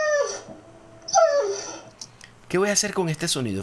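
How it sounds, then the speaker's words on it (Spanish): A dog whimpers and whines in drawn-out, wavering cries from a sound effect library, close and clear, followed by someone speaking. "Un perro haciendo gemidos pucheros."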